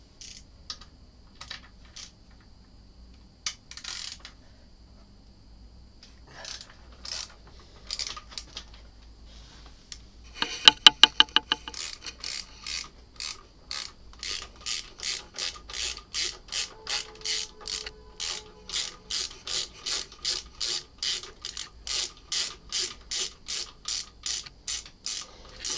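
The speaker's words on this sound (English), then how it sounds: "we're going to take this bolt off first. So right, this is a 12mm socket," Ratchet wrench with a 12mm socket removing a bolt on a Yamaha R6 motorcycle: scattered quiet clicks at first, then a fast ratcheting burst and a long, steady run of close, rhythmic clicking strokes, alone without talk.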